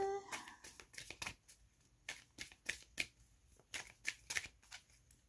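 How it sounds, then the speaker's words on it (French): Tarot cards shuffled and drawn by hand, a quick series of soft riffling flicks and slaps up close, fairly faint and irregular in rhythm. "On va prendre 3 cartes d'ici."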